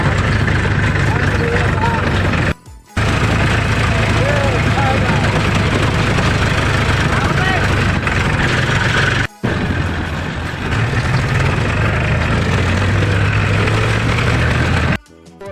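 A farm tractor engine runs steadily at close range, a deep continuous rumble that drops out briefly a few times, with people talking over it as the tractor is parked beside a house.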